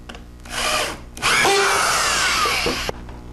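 A power drill drives screws through drywall sheetrock on a bead-covered arch, two close whirring bursts, a short one followed by a longer sustained whine that cuts off abruptly.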